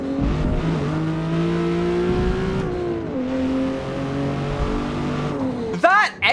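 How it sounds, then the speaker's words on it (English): A Ford Mustang race car in Forza Motorsport holds a steady, droning engine note with harmonic bands that rise and dip through gear changes, loud and continuous under talk. A short higher tire or whine burst comes near the end. "That engine actually doesn't sound bad"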